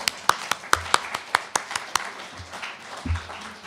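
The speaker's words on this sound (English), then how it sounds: "Would you please applaud yourselves?" Scattered hand claps from a church congregation applauding themselves, about a dozen separate sharp claps in an uneven rhythm, fading into a murmur of low voices toward the end.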